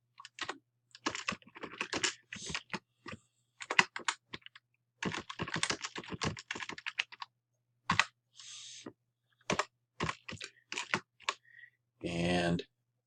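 Typing on a computer keyboard during an introductory class lesson, bursts of rapid key clicks separated by short pauses, with a person talking between and over the keystrokes.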